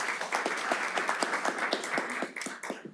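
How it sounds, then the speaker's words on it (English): A small audience at a city council candidates forum claps steadily for about three seconds, a moderate patter of applause that thins out at the end. "Round of applause for David."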